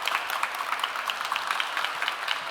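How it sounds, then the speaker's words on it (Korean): Crowd clapping to welcome Pohang mayor Lee Kang-deok at a town hall meeting, a brisk, even patter of many hands heard at moderate distance. "큰 박수로 환영 부탁드립니다."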